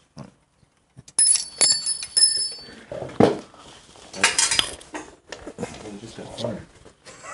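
A small metal pushrod tube holder tool from a Harley Shovelhead engine job falls and clatters, with bright ringing metallic clinks early on and then rattling, under people talking.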